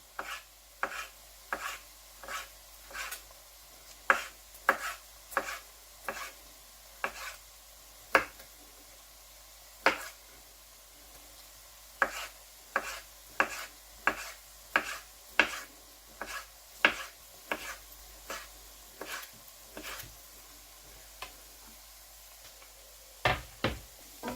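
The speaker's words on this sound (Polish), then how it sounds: "Kiełbasę dobrej jakości kroimy w paski." A knife slices wild boar and pork sausage into strips against a cutting board, sharp regular knocks at a steady rhythm, close and clear in a quiet room.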